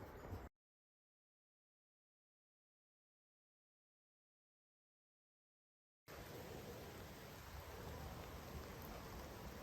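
Steady rain falling in woodland on the Sandringham Estate makes a dense, even hiss. It is heard briefly at the start, then cuts to silence for several seconds before returning at a constant level. No talking.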